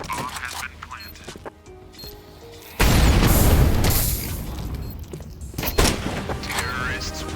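A planted bomb detonates in a shooter video game: a sudden loud, close blast with a rumbling tail that fades over several seconds, with game voice announcements before it.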